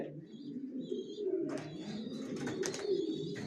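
Young racer pigeons in a loft coo in a low, rolling murmur, with a few higher chirps and flutters mixed in close by.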